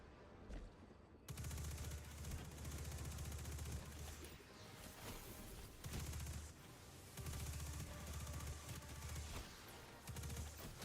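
Sustained rapid SMG fire in a looter-shooter video game, loud and dense bursts repeating over several seconds with brief pauses between strings of shots, backed by game effects.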